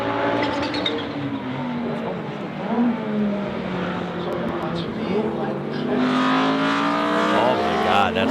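Audi IMSA GTO race car with a turbocharged inline five-cylinder engine: loud, continuous engine roar with rising and falling pitch as it revs and shifts, a person talking over it at moments.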